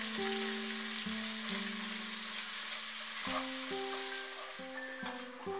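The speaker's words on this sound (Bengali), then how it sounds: "মিডিয়াম আঁচে পেঁয়াজটাকে কিন্তু খুব ভালো করে ফ্রাই করব।" Onions frying over medium heat in a pan, a steady soft sizzle running throughout beneath sustained tonal music, fairly close and even in level.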